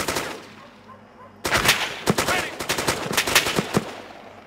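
Close automatic gunfire in Arma 3 on Chernarus, a quiet lull broken by a sudden burst of sharp, loud shots that crack in rapid, uneven succession.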